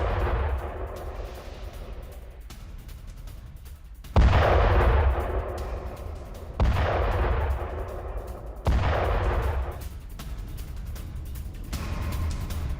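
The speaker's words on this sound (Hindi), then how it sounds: "ये देखिए, अमेरिकी रॉकेट हमले में बोट तबाह।" A US rocket strike blows up a drug-laden boat, heard as a series of loud, sharp blasts with heavy booms, each decaying into rumble, spaced a couple of seconds apart.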